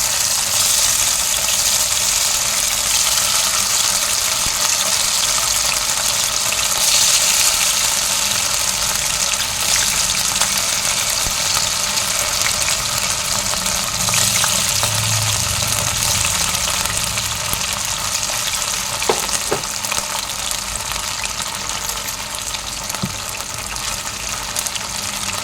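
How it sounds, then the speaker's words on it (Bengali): Cornflour-coated paneer pieces shallow-frying in hot oil, a steady broad hiss and sizzle running the whole time at an even, fairly loud level, with a few faint clinks near the end. "এখন পনিরটা হালকা করে ভেজে"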